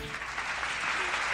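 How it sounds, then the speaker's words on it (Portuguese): Steady applause from a crowd in a television studio, a dense wash of clapping that holds at an even level and swells slightly toward the end, with no voices over it. "Mais palmas"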